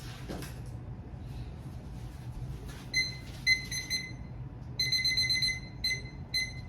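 A kitchen timer being set while baking bread: a few soft button presses, then bursts of rapid high electronic beeps repeating in short groups, close and clear over a quiet room hum.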